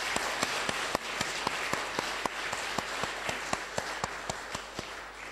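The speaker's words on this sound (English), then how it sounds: "Naomba tupige makofi tafadhali" Conference attendees at a tourism industry and academia event give a standing ovation, a continuous wash of clapping with one nearby pair of hands standing out in sharp, evenly spaced claps.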